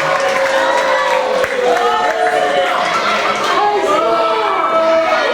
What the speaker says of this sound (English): Clap it up one more time for Brian Starr, ladies and gentlemen.